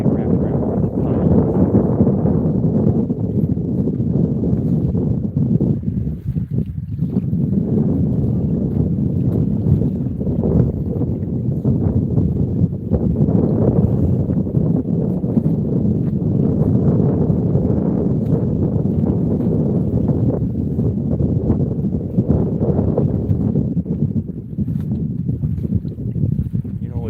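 Wind blows at a lakeside by the docks, a loud continuous low rumble and buffeting against the microphone for nearly half a minute, with gusts rising and falling.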